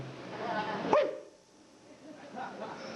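A performer at a live poetry event makes a loud vocal imitation of a dog barking: one sharp yelp-like bark with a voiced tail, followed by fainter bursts over room noise.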